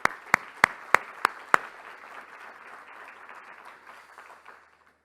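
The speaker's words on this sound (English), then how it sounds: "Let's give Brenda a big round of applause." Summit audience applause starts with six sharp, evenly spaced claps up close, followed by softer scattered clapping from the crowd that gradually fades away.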